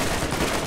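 A short, dense stretch of enemy machine gun fire in Borderlands, loud and continuous rattling with no pauses.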